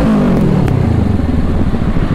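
Kawasaki Ninja Z650 motorcycle engine revving up close, a loud steady throaty roar with rising pitch at the start and no talk.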